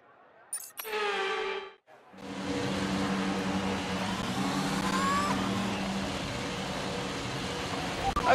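Alfa Romeo race car engine in F1 22 held at a steady high drone after a brief rising rev, with a voice speaking over the start.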